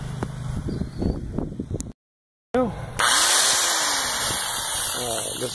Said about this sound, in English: I will run a drill off of the inverter